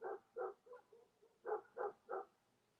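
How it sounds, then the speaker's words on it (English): A dog outside barks with an anxious tone: a few faint, distant barks, a brief lull, then three more in quick succession. "she started barking again"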